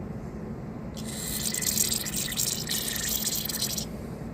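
Carburetor cleaner sprays from an aerosol can into a Honda GCV carburetor, giving a close, steady hiss of about three seconds that starts and stops abruptly over a constant low background noise.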